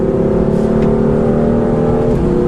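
A 2015 BMW M3 or M4 engine hums loud and close at a steady pitch on the Road America racetrack, then its tone drops sharply near the end as it shifts gear.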